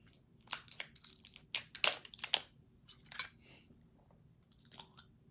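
Close, crisp chewing of food, likely meat with a dipping sauce, heard as a few irregular bursts of crunchy mouth sounds over quiet background, with no talking.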